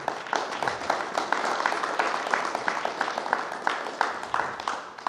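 Applause from a gathered group at a classroom inauguration ceremony in Chichoy Alto, with brisk, dense clapping continuing throughout at fairly loud, close level, some individual claps standing out rhythmically.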